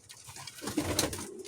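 Pigeons kept in a coop coo in a short, soft, throaty burst with a rising and falling pulse, close by and with no voices.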